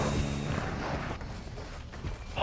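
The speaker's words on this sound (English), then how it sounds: "Hostile mortar strike in the area." Mortar strike explosions in Modern Warfare 2 multiplayer, heavy booming blasts and rumbling impacts layered with gunfire in a dense, loud game mix.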